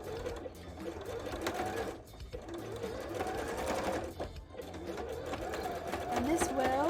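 A sewing machine runs a zigzag stitch across a bra, its whirring motor rising and falling in short bursts with brief pauses between passes, while a person talks quietly over it.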